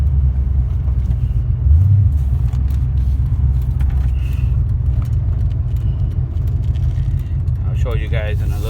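A 2000 Chevy C3500 pickup engine runs with a deep, steady low rumble close by, someone talking over it throughout.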